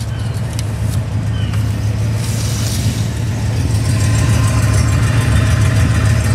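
A 1967 Cadillac Eldorado idles at its exhaust, a close, steady low rumble with a few faint clicks and a slight swell in loudness toward the end.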